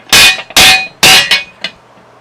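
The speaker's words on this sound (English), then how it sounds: "With your soft blow hammer, we're going to knock out this piece here." Soft blow hammer knocking a gear piece out of a John Deere 120 sector and pinion gear assembly: three loud sharp strikes in a steady rhythm, then two lighter taps, close and without talk.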